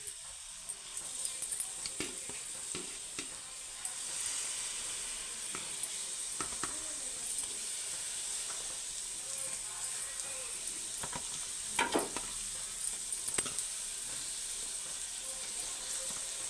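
Fish pieces fry in oil in a wide pan, making a constant hissing sizzle with occasional clinks and scrapes from a utensil turning them.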